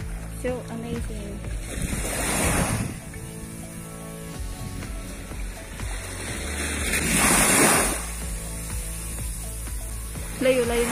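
Sea waves wash ashore at the Lingayen Baywalk beach in two swelling surges, with wind gusting over the water and people talking nearby.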